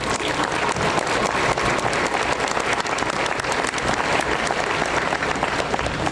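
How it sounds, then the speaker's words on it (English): Continuous applause from an audience at a Fort Jackson, South Carolina Army basic training graduation ceremony, honoring the Army band; dense, steady clapping without a break, heard from amid the crowd. "a round of applause for the band"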